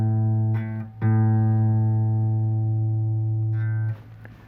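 A guitar string is plucked and rings out as a sustained harmonic tone while tuning. A second pluck follows and holds steadily for several seconds before fading.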